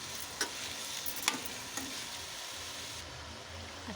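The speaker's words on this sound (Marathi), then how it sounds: "आणि आता आपण भाजी सोडूया, दुधीची भाजी। तिला पण चांगलं हलवून घेऊया, चांगलं मस्त कांद्यात वगैरे परतून घ्यायचं" Chopped bottle gourd sautéing with onions in hot oil gives a steady, moderate sizzle, with a few sharp scrapes and clinks as a spoon turns it in the pan near the start.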